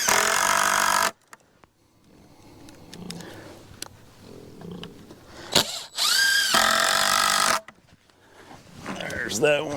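A power drill drives screws into wood while building a pig shelter: two loud whirring bursts, one at the start and a longer one later, separated by quieter handling noises and short knocks, with a squeaky sound near the end.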